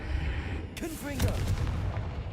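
A Confringo blasting curse in Hogwarts Legacy fires with a sharp whooshing launch, then bursts into a booming explosion with rising whistling tones and a rumbling tail, loud and close.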